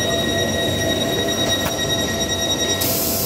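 Tyne and Wear Metro trains 4036 and 4085 at Jesmond station, a steady close rumble of rolling stock with high tonal whines and a brief sharp squeal midway, no voices.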